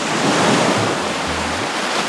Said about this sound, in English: struck the Red Sea with his staff, and the sea parted